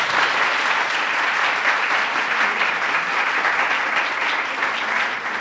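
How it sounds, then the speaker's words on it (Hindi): Steady, dense audience applause at a live naat poetry gathering fills the whole stretch at a loud, even level, with no talk over it. "तो इनके लिए आपने भरपूर एक बार ही ताली लगा देनी है।"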